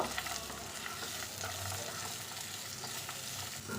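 Bay leaves and two kinds of nuts fry in a pan of hot oil, giving a steady, close sizzle with soft crackle throughout and no talking.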